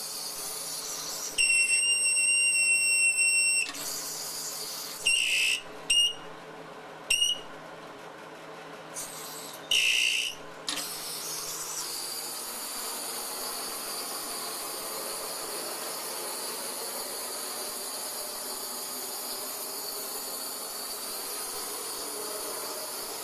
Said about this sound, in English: I'm sure you can imagine how annoying that whistling noise is.